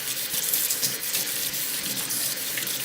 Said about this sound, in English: Rinse well, so all the soap is gone.